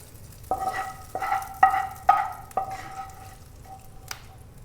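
Kerala-style prawn roast cooking in a pan: a soft sizzle sits under five or six sharp metallic clinks of a spatula striking the pan as it is stirred, close up and without talk.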